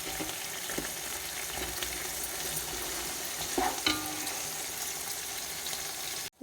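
Mint leaves and green chillies frying in a pan for chicken biryani give a steady, fairly quiet sizzle with a few stirring scrapes and clinks partway through, and no talking.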